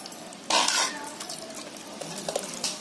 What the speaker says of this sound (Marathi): आता हे आपल्याला आहे ना अशा गोल चमच्यानी हे असं जरा ढवळून घ्यायचं आहे.